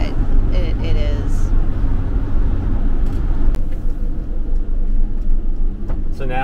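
A Sprinter van fitted with Pedal Control 2.0 throttle controller surges forward, a steady loud engine and road rumble from inside the cabin running throughout while a person talks over it.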